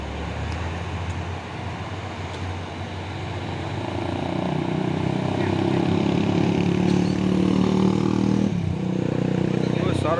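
A Hino 500 trailer truck's diesel engine drones steadily on the road, its deep rumble growing gradually louder and nearer over ten seconds, with a voice talking over it.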